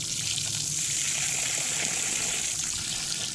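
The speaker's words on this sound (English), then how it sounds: "So I'll continue outside with the hose bib in the back. Make sure we have copper flow there." Water gushes steadily from an outdoor hose bib faucet at a newly built house, a continuous loud splashing rush close by with no pauses.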